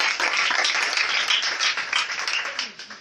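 A church congregation applauds with dense, lively clapping that holds steady, then thins and fades toward the end.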